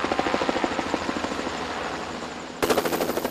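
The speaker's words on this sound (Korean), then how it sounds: "방제 작업을 끝낸 헬기가 약재 공급을 위해서 지상에 내려앉는다." A Russian-built Ka-32 crop-spraying helicopter comes down to land for a pesticide reload, its rotors beating in a loud, rapid, steady rhythm that swells even louder near the end.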